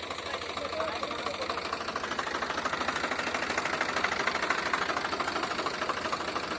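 A tractor engine runs steadily nearby during a wheat harvest, a constant, moderately loud mechanical chugging with a fast, even beat that holds throughout.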